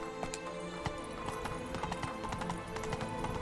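Horse Roach gallops in The Witcher 3, a steady run of clip-clop hoofbeats over continuous game music and ambience with no talk.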